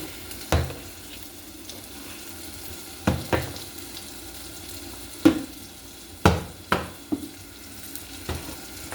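Spices frying in a hot pan with a soft, steady sizzle, broken every second or two by sharp scraping clicks as a spoon stirs them; close and moderately loud, with no talking.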